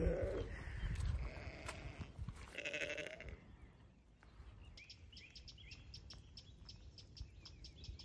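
A sheep bleats a few times outdoors at the start, followed by a quieter stretch with chirping birds in the background and light wind.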